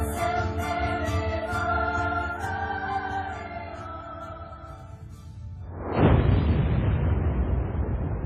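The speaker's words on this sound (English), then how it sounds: "Watch a big squib coming from the sky lobby band." A heavy explosive blast from the World Trade Center sky lobby band erupts as a sudden loud, broad roar that sustains to the end, preceded by a fading musical drone.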